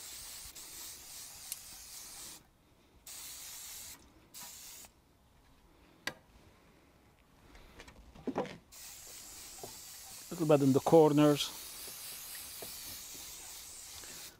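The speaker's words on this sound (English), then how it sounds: "here I'm using some cooking spray, a little bit inside" Cooking spray hisses from an aerosol can into a balustrade railing mold in several short bursts separated by pauses, close and soft, with a brief spoken comment and some rubbing toward the end.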